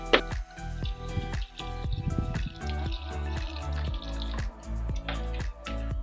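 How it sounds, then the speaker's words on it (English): Water trickles and splashes into a cooking pot of cow skin meant for boiling, a steady, close pour with bright dripping and filling sounds and irregular small spatters throughout. "I'm going to add just little water into it to boil it."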